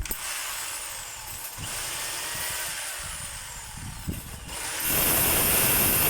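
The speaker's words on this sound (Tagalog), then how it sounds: "Check natin yung hammer mga kabay." A rotary hammer drill being test-run, a steady loud mechanical whir with a rattling hammering texture that holds throughout and grows louder and harsher near the end.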